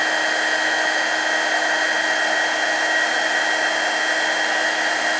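A heat gun rated to about 600 degrees blows hot air with a constant, loud whirring whine, steady and unbroken from start to finish.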